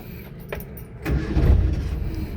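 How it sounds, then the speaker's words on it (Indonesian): A 1997 Suzuki Katana car engine cranks and catches after a brief key jingle, settling into a steady rumbling idle close by. "untuk starter langsung jreng gitu lor"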